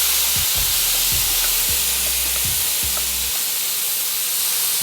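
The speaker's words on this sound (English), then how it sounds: "So what I'm gonna do is put it on this pan here, lay it out, and crack an egg right in the center." Filipino sisig frying in a pan with an egg cracked into the center gives a steady, even sizzle and hiss throughout, with several low knocks and taps from the pan early on before they stop.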